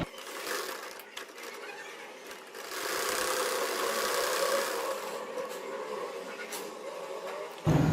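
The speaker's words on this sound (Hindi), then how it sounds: "अब मैं फिटिंग के सिलाई लगा रही हूँ" A sewing machine stitching the fitting seam of a baby frock runs in a continuous mechanical whir, steady and moderately close, with a slight swell midway and a sharp clunk at the end.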